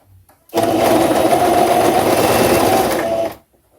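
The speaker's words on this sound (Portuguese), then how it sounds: "E eu vou começar aqui fazendo essa costura." A sewing machine runs in one steady, loud burst of about three seconds, stitching a narrow double-folded hem on a loose blouse, then stops abruptly into near silence.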